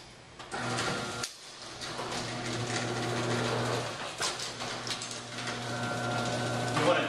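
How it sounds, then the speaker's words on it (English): A garage door opener runs the door up and then down, a steady mechanical drone with rattling and a constant motor hum, close and fairly loud with a brief pause between the two runs. "press the opener for the door to go up and down."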